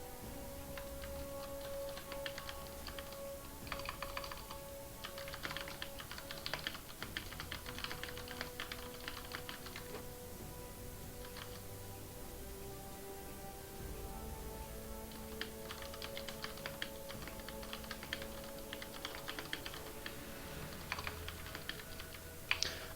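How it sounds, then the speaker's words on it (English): Computer keyboards clatter in quick irregular bursts during a competitive game match, with several people typing at once at low level and pauses in between. "you guys are all typing a lot"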